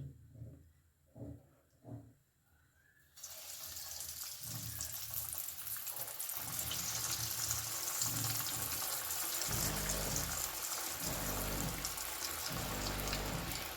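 Vegetable chops frying in white oil in a well-heated kadai over a medium flame: a few soft knocks, then a loud, steady, close sizzle that runs on without pause.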